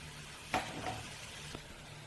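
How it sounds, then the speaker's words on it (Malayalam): Masala for a crab curry sautéing quietly in a pan, a soft steady sizzle with a couple of faint stirring scrapes, close and low, no voices. "ഒന്ന് വഴറ്റിയെടുക്കാം. മസാലയൊക്കെ നന്നായിട്ട് മൂപ്പായിട്ടുണ്ട്"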